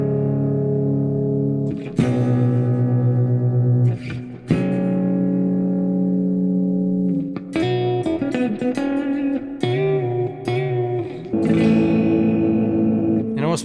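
An electric guitar fed through a tiny ring modulator pedal rings out in sustained, metallic, slightly out-of-tune chords, with a sharp new attack at about 2 seconds and a run of choppier picked notes and strums later on, loud and close with nobody speaking.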